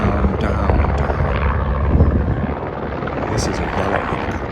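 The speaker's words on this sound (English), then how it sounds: "The helicopters come down, down, down, down." A yellow medevac helicopter lands in Black Rock, New Mexico, its rotor wash and engine a loud, steady, close roar throughout with a constant thrumming chop.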